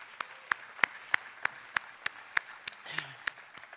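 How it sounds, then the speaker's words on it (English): Sparse, slow applause at a university bench dedication: a single person or very few people clapping in an even rhythm of sharp, distinct claps, fairly faint, with a brief voice near the end. "So can we give her a round of applause?"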